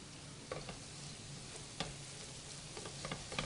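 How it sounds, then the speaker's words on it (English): Vegetables for a meaty chili sizzle steadily in a hot pot while a spoon stirs them to coat them, with a few soft scrapes and knocks over the constant frying hiss, close up and without speech. "I'm going to add this to it and make sure we coat all these vegetables in it."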